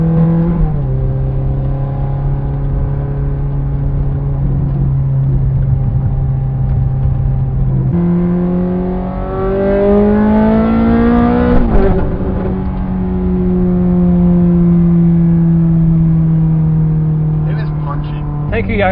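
A Ferrari F430 with a loud Fabspeed exhaust accelerates through several gears, its engine note climbing steadily and then dropping at each upshift, with rising revs and a brief sharp blip near the middle.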